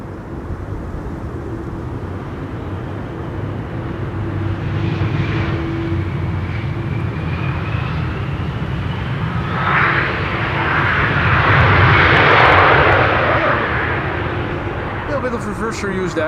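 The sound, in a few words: KLM airliner arriving and landing at Schiphol runway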